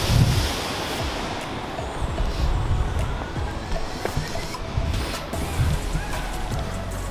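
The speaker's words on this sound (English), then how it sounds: "See through there, it's pretty wild waves." Wild ocean waves crash in a continuous broadband roar, with gusty wind buffeting the microphone throughout.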